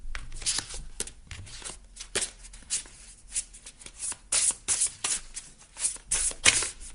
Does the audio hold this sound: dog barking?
no